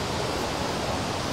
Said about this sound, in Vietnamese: cái khe suối kia có vẻ như là lớn quá ông nhờ?